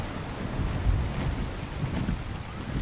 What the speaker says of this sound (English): There's a big huge waterfall.